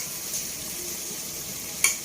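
Potato and pointed gourd frying in a pan with masala give a soft, steady sizzle, with one brief metallic clink near the end.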